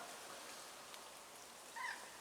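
Rain falls at a carp fishing lake, a soft, even hiss of drops that holds steady throughout, with one brief slightly louder patch near the end and no voices.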